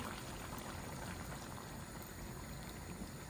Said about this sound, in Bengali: আর আমি খাট্টার মধ্যে এখন পানি দিয়ে দিচ্ছি।